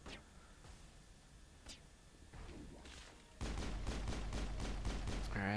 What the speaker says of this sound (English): I'll take out my pistol again